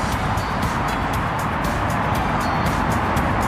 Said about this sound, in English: You can probably pick the traffic up now.